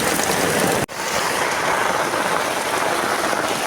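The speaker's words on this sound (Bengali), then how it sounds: "কি বৃষ্টি, মুষলধারে বৃষ্টি।" Torrential rain pouring down during a storm, a loud close continuous hiss broken by one brief dip in level near the start, then resuming unchanged, with no voices.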